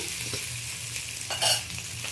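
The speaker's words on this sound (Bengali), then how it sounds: "ফোড়নের সাথে কাঁচা লঙ্কা আর পাঁচ ফোড়ন ফোড়ন দিয়েছিলাম তার সাথে আমটা আমি ভালো করে নেড়ে নিয়েছি" Mango pieces with green chilli and five-spice seeds are stirred in a hot pan, giving a soft steady sizzle with scraping stirs and one brief louder clatter near the middle, quiet and close.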